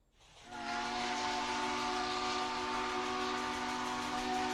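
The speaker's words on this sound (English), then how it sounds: "thanks to the sounds of a steam engine's whistle" A steam engine's whistle sounds after a brief quiet start, rising into one long, loud, sustained blast with a rich, chord-like tone that holds steady to the end.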